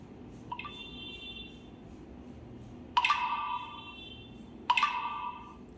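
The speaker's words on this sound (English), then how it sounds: "notification ringtone sound you want to use in your Tecno mobile" Notification ringtone on a Tecno Spark 6 Go phone: three short electronic chimes, the first faint and the next two louder, each a bright tone that rings and fades, over quiet background hiss.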